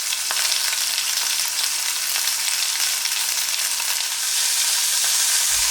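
German-style stuffed flank steak rouladen frying in a hot pan, giving an unbroken loud sizzle with scattered spits and pops throughout, no talking.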